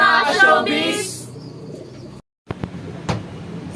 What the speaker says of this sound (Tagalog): Tignan po natin mga ibon natin